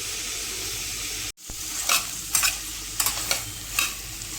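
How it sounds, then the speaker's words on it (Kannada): Chopped radish is stirred and fried in a pan for a South Indian style curry, giving a continuous close sizzle. A spatula scrapes and taps the pan at an irregular rhythm. "ಮೂಲಂಗಿನ ಸೇರಿಸಿ ಆದಮೇಲೆ ಒಂದು 2 ಸೆಕೆಂಡ್ ಫ್ರೈ ಮಾಡಿಕೊಂಡು ಅದು ಫುಲ್ ಮಿಕ್ಸ್ ಆದಮೇಲೆ"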